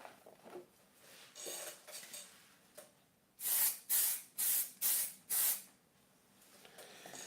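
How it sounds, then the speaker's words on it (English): Fixative spray misted over a pencil product sketch of a pencil sharpener, softer faint sounds first, then five loud, evenly spaced hissing bursts from the aerosol can, close and with no talk. "spray fix again"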